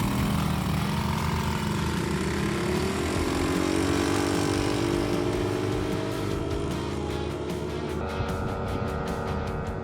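Two cheap ATVs, one of them a 200cc, drag race side by side, their engines roaring loud and steady with rising pitch as they accelerate, with a higher whine shifting near the end.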